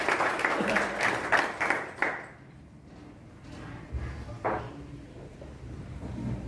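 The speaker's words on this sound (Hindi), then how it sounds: "महोदय का तालियां बजाकर स्वागत करें।" An audience at a government school's Independence Day celebration claps to welcome a guest: a burst of clapping for about two seconds that then fades into a quieter murmur of the crowd with scattered sounds.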